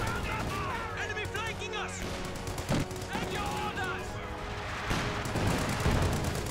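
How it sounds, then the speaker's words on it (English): Artillery and gunfire from a Company of Heroes 2 battle, a dense ongoing barrage of booms and shots with heavier blasts near the end, mixed under steady game noise and talk. "Lots more artillery fire."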